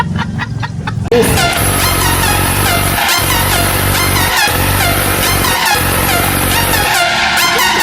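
A Suzuki Raider Pro motorcycle with keyless start fires up after a few faint clicks, then settles into a loud, steady, buzzing idle close by.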